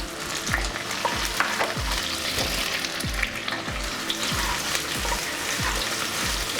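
Sliced onion and curry leaves frying in oil for masala pulao made with leftover rice, a loud steady sizzle with a regular thud of the spatula roughly every half second, no talking.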